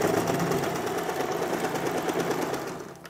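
A sewing machine runs a lock stitch to finish a seam, giving a continuous close whirring hum for about three seconds that fades slightly at the end.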